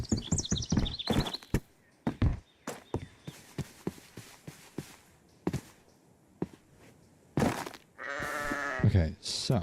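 Sheep bleating in the Minecraft video game, several short bleats spread among clicks and game sounds, with a longer louder bleat near the end.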